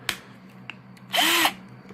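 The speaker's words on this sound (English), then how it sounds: "this is a variable speed drill" Drill Master variable speed drill from Harbor Freight, a corded hand drill, whirring in a short close burst of about a third of a second after a few faint clicks, alone without talk.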